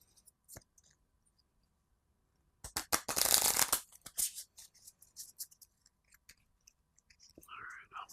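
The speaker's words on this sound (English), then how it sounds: "let's go ahead and give them a shuffle." Cards for the Fateforge board game being shuffled, a short burst of riffling and flicking followed by scattered soft card handling sounds, close and fairly quiet.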